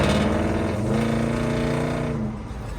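A rattly, loud Dodge Charger dirt track car drives along with a steady, rough engine drone heard from inside, rising slightly in pitch and then easing off near the end.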